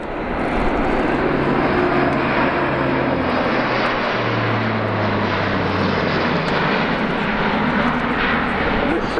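An Airbus A400M military transport aircraft in a flying display at an air show, its propeller engines a loud, continuous roar with a slowly shifting drone as it manoeuvres, and a commentator's voice faintly under the noise.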